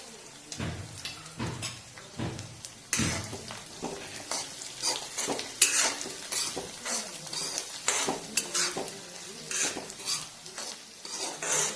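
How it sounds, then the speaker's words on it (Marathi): Onion sautéed in a pan for Khandeshi vangi bharit, with steady soft sizzling and repeated sharp scrapes and clinks of a spoon stirring against the metal pan. "कांदा छान गुलाबीसर होईपर्यंत परतून घेऊया"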